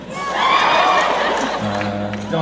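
Fan Expo convention crowd cheering, whooping and applauding in a large hall, a loud swell of voices that holds for a couple of seconds before a voice cuts in over it.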